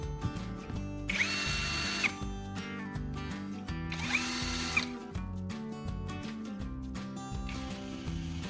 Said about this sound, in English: I'll mark the spot to drill a hole right in the center of the mesh strainer